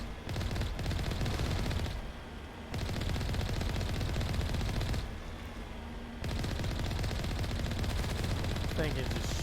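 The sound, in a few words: gun firing continuously in the video game Mass Effect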